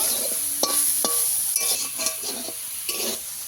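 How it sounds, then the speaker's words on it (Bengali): Soybean chunks fried in oil and stirred in a pan: constant sizzle broken by repeated metallic clinks and scrapes of a utensil against the pan, close up, with no one speaking. "সোয়াবিন আমি এইভাবে ভেজে নিয়েছি"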